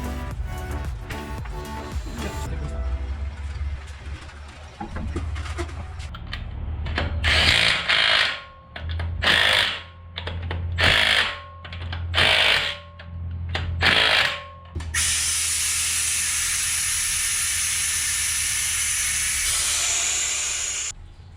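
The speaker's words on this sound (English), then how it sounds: "Now all that's left is to mount the wheel and tighten the axle bolt." On a Volkswagen Passat B8, a power tool runs in repeated loud whirring bursts while the axle bolt is tightened and the wheel is mounted, followed by a long steady hissing spin near the end.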